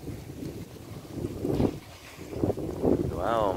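Strong wind at a seaside resort on Mactan with paddleboards and kayaks nearby, gusting roar and microphone buffeting rising and falling, with people talking under it.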